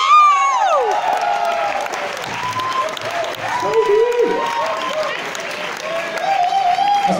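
A live audience at an album premiere concert gives loud, sustained applause mixed with cheers and whoops, and a voice calls out over the crowd.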